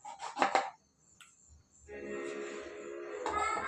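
A knife slices through eggplant for a Maharashtrian bharit: a few quick rough rasping cuts up close, then a pause, then a steadier scraping, sawing texture that continues to the end.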